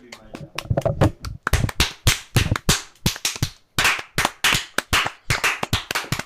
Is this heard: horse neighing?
no